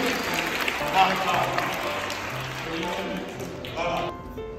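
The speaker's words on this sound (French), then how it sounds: "Marie, applaudissez pour elle." Applause for Marie from a church audience at a children's Christmas service, moderately loud continuous clapping with talk running over it.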